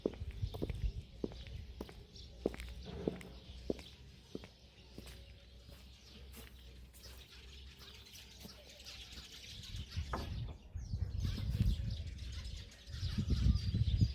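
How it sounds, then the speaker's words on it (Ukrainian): Birds chirp and tweet faintly at a distance outdoors, with scattered sharp clicks and rustling footsteps over a quiet background. "Ви тільки почуєте, як пташки співають."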